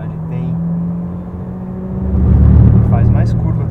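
Heard from inside the cabin during a test drive, a car's engine idles and then surges loudly as it accelerates hard with wheelspin, the roar swelling and holding close by.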